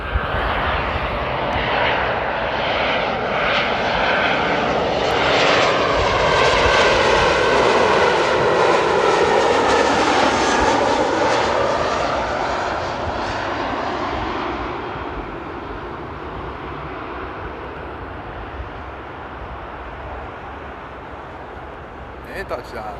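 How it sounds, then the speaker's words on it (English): An Airbus A330 jet airliner lands at Amsterdam airport, its loud engine roar swelling and then easing off steadily after touchdown, with people talking over it. "And there's that A330 that just landed."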